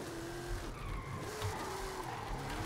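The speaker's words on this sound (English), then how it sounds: "Ooh, I told you I can drift with this thing, bro." A 1970 Dodge Coronet Super Bee muscle car drifting in Forza Horizon 5, its engine droning steadily as tires squeal and skid through the slide, loud and continuous with no talk.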